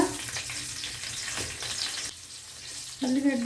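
Onions sizzle and crackle steadily in hot oil with tempering spices and dried red chillies, a bright frying hiss that runs throughout, with a brief stir near the end.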